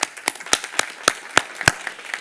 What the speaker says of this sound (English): I think this announcement definitely deserves a real round of applause